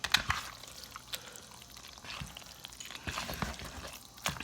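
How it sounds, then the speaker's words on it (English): A milk and egg mixture is poured into cooked macaroni for Southern mac and cheese, a faint, soft liquid pour with small splashes and clinks, close by and without talk. "I'm gonna dump that milk and egg mixture in the macaroni."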